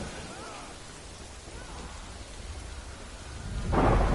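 Rain and thunder in the video game Death Stranding, a steady hiss of rainfall with low rumbling, swelling into a louder thunder roll near the end.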